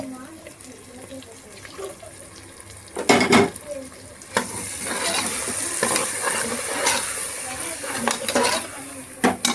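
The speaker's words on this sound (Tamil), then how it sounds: "நல்லா மிக்ஸ் பண்ணிக்கலாம்." Ground masala is stirred into a pot of veg biryani, a close spoon scraping and sloshing through wet food with a few louder clanks against the pot, while a voice talks over it.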